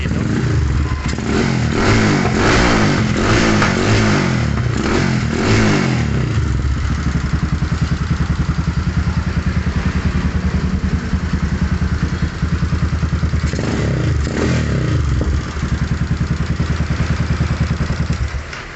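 A Yamaha Scorpio motorcycle, recently fitted with a new spark plug after a stalling fault, revs up loudly in bursts at close range, then drops to a rough, clattery idle before another short rev near the end.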